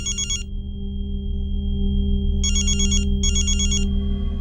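A telephone ringtone sounds loudly in three electronic bursts, one short and then two in quick succession, over a steady low hum in a home setting.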